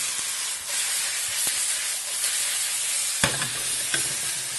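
Lomo saltado stir-frying in a hot pan, a continuous loud sizzle and hiss with occasional scraping clinks of stirring.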